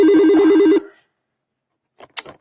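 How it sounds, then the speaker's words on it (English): A phone rings loudly with an incoming call, one warbling electronic ring lasting under a second. Silence follows, then faint brief sounds. "We got a phone call from Colorado."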